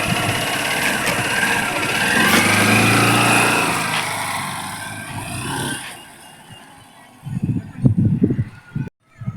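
A geared motorcycle engine runs as the clutch is eased out and the throttle is opened. The steady, close engine note swells for a few seconds, then drops back, and a voice speaks briefly at the end.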